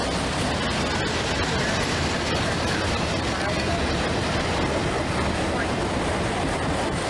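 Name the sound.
Burlington Northern train passing with auto rack car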